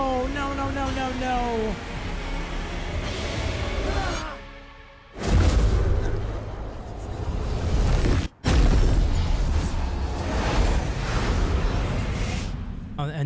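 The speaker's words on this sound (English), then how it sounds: "And that was the explosion that we all saw." A huge explosion in the finale of Kena: Bridge of Spirits, a deep rolling boom that swells, breaks off, and surges again into a long roaring rumble, with a voice crying out at the start.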